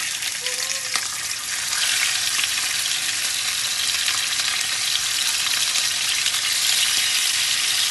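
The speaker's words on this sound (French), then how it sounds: "on va saisir les morceaux de viande. Donc pour saisir la viande, il faut être sûr que l'huile est bien chaude" Beef pieces sear in very hot oil for a boeuf bourguignon, giving a steady, loud, dense sizzle and crackle that runs unbroken throughout with no talking.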